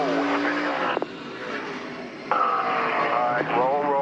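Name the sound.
race truck engine with back tires spinning on track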